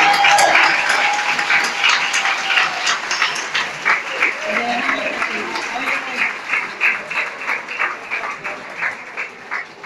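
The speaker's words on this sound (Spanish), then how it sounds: "le damos un fuerte aplauso" A church congregation applauds at a farewell for a departing priest, with steady clapping that thins into a rhythmic, pulsing beat as it goes on, and someone speaks briefly partway through.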